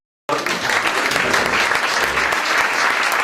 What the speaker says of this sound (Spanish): Un último aplauso.